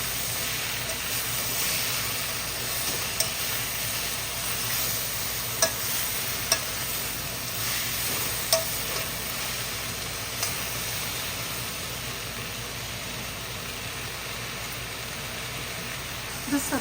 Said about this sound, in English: So mix well.